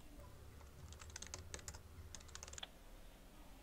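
Quick clusters of key clicks from text typed on a computer keyboard, soft and close, in short bursts with pauses, over a low background hum.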